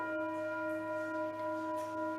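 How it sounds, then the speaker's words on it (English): A single church bell rung to call a congregation together, its long steady tone sustaining clearly for the whole moment with no talking over it. "We ring the bell a second time to call us into relationship with ourselves, one another, and the interdependent web of which we are a part"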